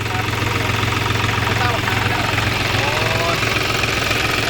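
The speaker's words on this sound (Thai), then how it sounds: "เครื่องมันเป็นสามสูบป่ะเนี่ยเครื่องสามสูบป่ะฮะ" New Holland backhoe loader tractor with a three-cylinder engine, running at a steady, throbbing idle close by, with a continuous low rumble throughout and a voice talking over it.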